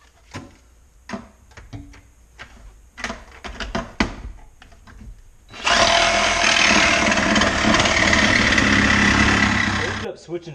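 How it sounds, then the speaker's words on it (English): Short bursts of clatter and handling knocks lead into a Sawzall reciprocating saw cutting rusted metal on an FJ80 Land Cruiser. It roars steady and loud for about four seconds before stopping abruptly, and a voice is heard during the earlier quieter part. "Switching to the Sawzall there because it was a little bit easier to handle"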